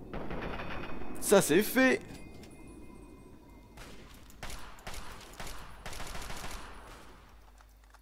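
Gunfire from the video game Fallout 3, fired in short bursts: a loud cluster of shots early on, then scattered rapid reports, with someone talking over the action.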